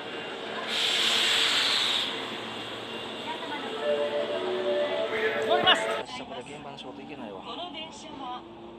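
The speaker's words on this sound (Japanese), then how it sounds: "電車来た、電車来た" A train pulls into a station with a loud hiss of air brakes, then rolling rail noise and squeals as it slows. A voice speaks over it.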